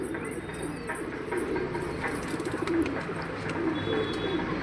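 Black domestic pigeons cooing softly in a steady, low murmur over a continuous loft background, with no speech.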